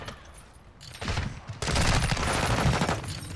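Rapid automatic gunfire bursts in Call of Duty: Modern Warfare, starting faint and swelling into a loud, dense volley after a second and a half, sustained to the end with no talk over it.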